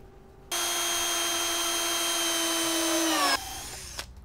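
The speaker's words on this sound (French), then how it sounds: "Pré-percer et visser." A power drill runs steadily for about three seconds, pre-drilling and driving screws into wooden beams, a loud whining motor tone that winds down as it stops, followed by a brief click.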